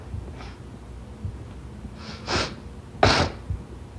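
A few short, breathy nasal sniffs spaced apart, fairly close and quiet, with low background noise between them.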